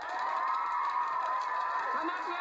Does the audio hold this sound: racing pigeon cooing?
no